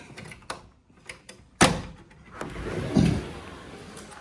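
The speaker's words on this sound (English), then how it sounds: "Big slide. They spent a lot of money on doors" A large sliding door in a historic mid-century modern house rolls along its track, with a few knocks, a sharp thump, then a rumbling slide building to a heavy close.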